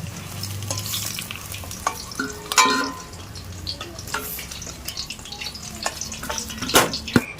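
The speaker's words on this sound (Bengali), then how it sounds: "ডিমগুলিকে খুব সুন্দরভাবে ভেজে নিয়েছি এবারে উঠিয়ে নেব" Eggs fry in oil in a wok, a close sizzle broken by scraping and stirring clatters and a few sharp utensil knocks against the pan.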